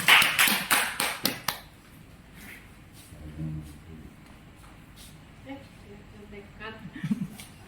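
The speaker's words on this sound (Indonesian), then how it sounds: "Tepuk tangan untuk sahabat berbagi." A few people clap for a presenter at the end of an online teacher-training session, about eight sharp close claps in a burst that then stop, followed by quiet talk.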